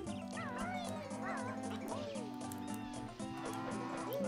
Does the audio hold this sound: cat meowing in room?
yes